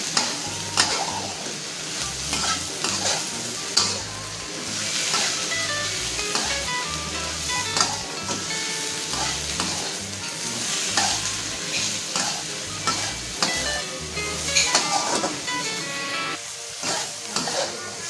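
Spice paste sautéing in a pan for a coconut-milk mackerel curry gives a steady close sizzle with scraping stir strokes throughout, over soft background music.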